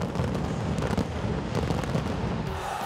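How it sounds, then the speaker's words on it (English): Fireworks go off at a hockey stadium during the 2023 FIH Odisha Men's Hockey World Cup, India against Spain, crackling and booming continuously with a dense rumbling wash and no clear pauses. "Oh, plenty of fireworks being"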